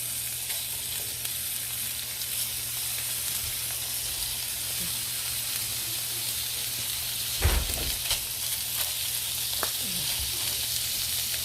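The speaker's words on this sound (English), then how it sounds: "So you hear that frying?" Steady hissing sizzle of sausages frying in hot oil, with a brief clatter midway and faint pops throughout.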